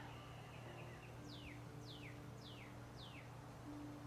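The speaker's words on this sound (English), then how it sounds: "Noticing the birds chirping." Birds chirping outdoors: four quick, evenly spaced descending chirps sound faintly over a steady low background hum, with no one speaking.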